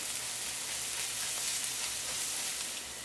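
Onions with ginger and garlic sauté in a pan, giving a soft, even, continuous sizzle at fairly low level with no voices and only a faint knock at the very end.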